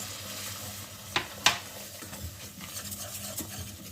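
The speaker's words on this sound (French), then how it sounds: "Et je mélange." Flour being stirred into melted butter in a pan for béchamel: quiet soft sizzle with scraping strokes and two sharp metallic clinks of a utensil against the pan, no speech.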